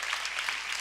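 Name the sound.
audience applause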